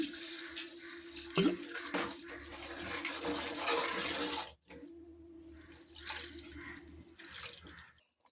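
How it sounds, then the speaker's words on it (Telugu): Water pours into a pot of fish curry with tamarind in a splashing stream that stops briefly partway through, then resumes more unevenly. No one speaks. "కొంచెం నీళ్ళు వేసుకుందాము"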